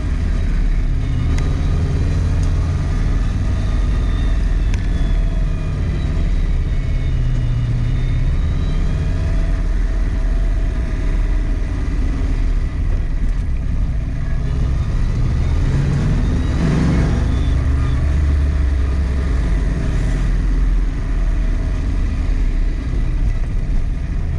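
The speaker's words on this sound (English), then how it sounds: "Seems like it's rattling. It sounds like it has a supercharger or something." A new Blueprint 347 stroker V8 in a 1966 Mustang runs with a steady, loud, close rumble and a shaky, rattling edge. It pulls along continuously without pause, and no voices are heard.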